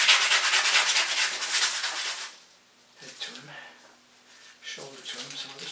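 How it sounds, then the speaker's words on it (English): Sandpaper rubbed back and forth over a carved wooden pike model, a steady dense scratchy scraping for about two seconds, then quieter intermittent rubbing strokes, close up. "Sand well, stays flat."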